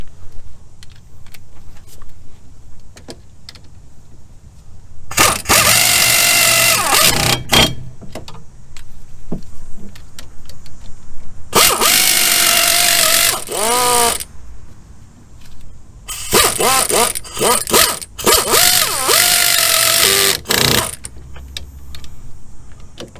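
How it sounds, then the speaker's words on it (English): An impact ratchet drives 14 mm caliper bolts on the rear brakes of a Chevy Impala in three loud, sustained rattling bursts with pauses between them, clinking of tools in the quiet gaps. "That's tight enough just from the impact of that ratchet."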